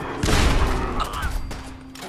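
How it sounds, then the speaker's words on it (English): A grenade blast in Fallout 4, one loud booming explosion up close followed by a decaying rumble and a couple of smaller thuds and rattles. "Who's throwing grenades?"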